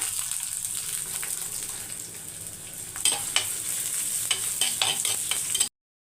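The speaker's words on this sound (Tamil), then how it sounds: "எண்ணெய் காயுது கொஞ்சம் சோம்பு கருவேப்பிலை ஒரே ஒரு பச்சை மிளகாய் ஒரு பெரிய வெங்காயம்" Onion, fennel seeds, curry leaves and green chilli fry in hot oil: a steady, close sizzle throughout, with stirring scrapes in the second half, ending abruptly in silence.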